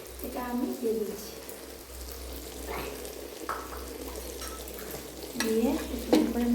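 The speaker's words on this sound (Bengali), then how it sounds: "দিয়ে সুন্দর করে আমি একটু নেড়ে দিচ্ছি" Winter vegetables and shelled green peas for khichdi are stirred in a pot, soft sizzling with scraping stirs near the start and end over a low steady hum.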